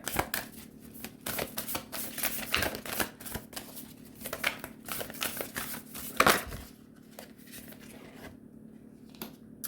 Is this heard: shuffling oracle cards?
yes